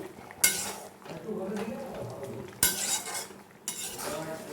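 Spoon stirring kasuri methi and sugar into posto in a pan, with a few sharp metallic clinks and soft scraping under someone speaking.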